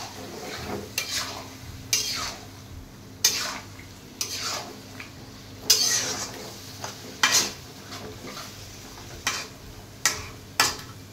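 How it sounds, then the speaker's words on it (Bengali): Chicken curry meat is stirred in a pan with a spoon, each stir a sharp scrape or clink against the metal, repeated at uneven intervals over a faint sizzle. "মাংসটা কষতে থাক"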